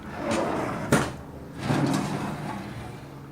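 A repurposed metal pedestal drawer on a welding cart slides open and shut, with a sharp clunk followed by a longer rumbling slide.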